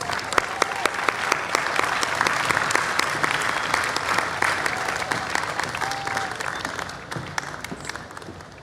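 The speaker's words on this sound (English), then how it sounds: "Let's give her a big round of applause." A large festival audience gives a long, loud round of applause for a former president of Ecuador, sustained dense clapping that tapers slightly toward the end, with faint crowd murmur beneath.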